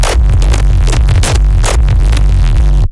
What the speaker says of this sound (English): I wanted to have like a neuro bass, like a super heavy one